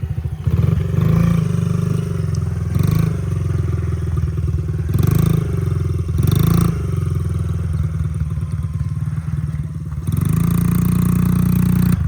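Dirt bike engine running steadily off-road near a fence and small bridge, a loud continuous motor drone with brief surges and clattering, rising again toward the end.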